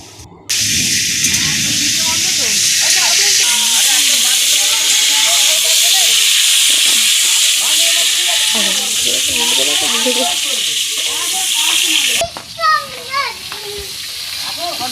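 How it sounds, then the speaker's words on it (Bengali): Pointed gourd (potol) frying in hot oil hisses loudly and steadily at close range, with children's voices chattering over the sizzle until it cuts off near the end. "আমরা পটলটা আবার ভালো করে ভেজে নেবো"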